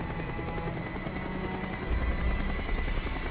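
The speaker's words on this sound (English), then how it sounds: "The chopper is coming around again." Helicopter rotor thumping in the Call of Duty Black Ops video game, a steady whirring drone that swells louder toward the end as the aircraft circles back overhead.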